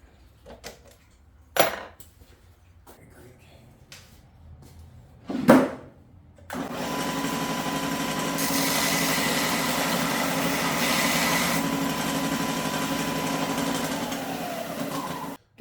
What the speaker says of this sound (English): I'll clean it up a little bit with a wire wheel